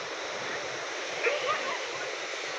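Rough sea waves wash against shoreline rocks at a fishing beach in stormy weather, a steady, close roar of surging and splashing water with a couple of slightly louder surges.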